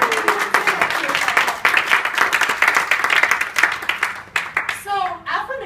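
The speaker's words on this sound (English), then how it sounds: "you guys need to give yourselves a round of applause" A small audience applauds loudly and continuously with dense clapping that tapers off near the end, when a voice begins talking.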